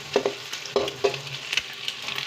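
An egg cooking in a pan with beans palya, heard as close, intermittent clanks of a spatula stirring over a soft sizzle, without voices.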